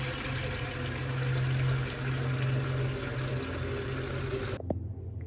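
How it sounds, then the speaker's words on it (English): Tap water running steadily into a cooking pot, a continuous close splashing hiss that stops abruptly near the end, followed by a small clunk. "fill up your pot with water so that it's ready to boil"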